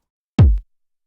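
A single punchy kick drum hit, deep and booming with a quick attack and short decay, alone in silence.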